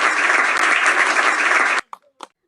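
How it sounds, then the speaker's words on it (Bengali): Dense, loud applause from a crowd at a political rally, steady clapping for nearly two seconds that stops abruptly, followed by a couple of brief faint knocks. "সবাই হাততালি দেন।"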